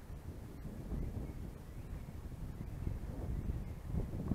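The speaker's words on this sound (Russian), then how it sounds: "Погодка сегодня такая, порывами ветер." Gusty wind while fishing for asp by the water, a faint continuous rumble of buffeting on the microphone that rises and falls in soft surges, no voices.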